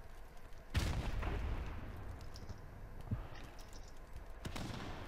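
A grenade goes off in a multiplayer shooter match: one sharp, close blast that rolls into a long, rumbling tail, followed by softer thuds and a few scattered later cracks.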